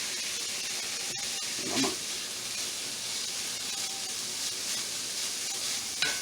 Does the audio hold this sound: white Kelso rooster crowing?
no